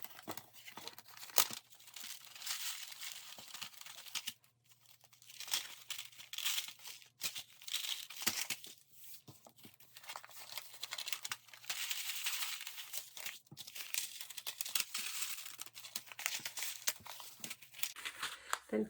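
Crinkly plastic bag of craft sequins opened and handled near the mic, with steady rustling, crumpling and faint tearing running through, a low hum underneath.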